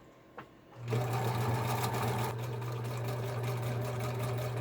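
A Viking 120 sewing machine starts up after a brief quiet moment and stitches fabric with a steady, loud, continuous mechanical hum that holds for several seconds, close and alone with no talk.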